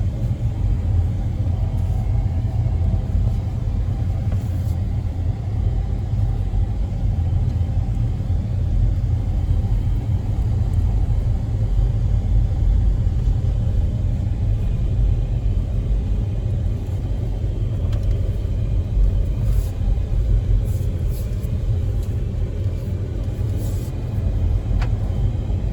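Low, steady engine rumble and road drone from an INEOS Grenadier being driven off-road, a constant loud bass-heavy hum lasting the whole stretch with faint rattles on top.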